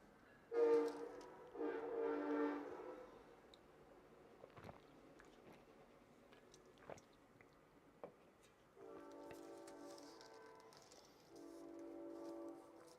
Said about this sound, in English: And then the train goes by.